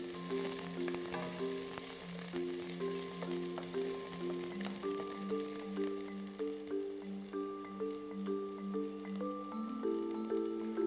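The soffritto base for a brodetto alla termolese fish stew softens in a pan with a soft, steady sizzle, faint beneath a gentle, sustained musical melody throughout.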